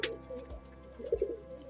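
Pigeons coo softly and close by in a few short, low throaty calls over quiet background noise.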